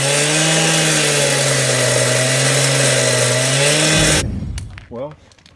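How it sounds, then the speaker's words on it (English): A power saw cuts through concrete near a pool skimmer line, a loud steady droning whine that winds down near the end, followed by a brief voice. "I've sawed the concrete."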